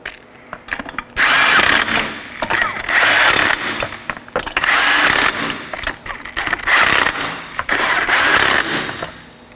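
Bursts of a power impact tool or ratchet spinning lug nuts onto a 2013-2019 Nissan Sentra front wheel in a crisscross sequence, several loud whirring runs separated by short pauses.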